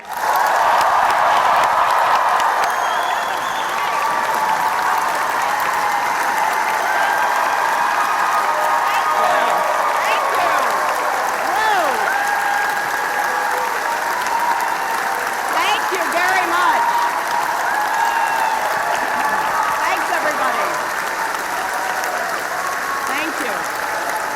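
Audience applause welcomes Hillary Rodham Clinton at an indoor event, a dense, steady wall of clapping with some cheering that holds loud for the whole stretch.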